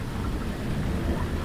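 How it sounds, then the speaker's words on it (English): Heavy rain falls in a continuous, loud wash with a deep rumbling low end, heard outdoors on a cold bikepacking trip in Norway. No voices. "It's raining."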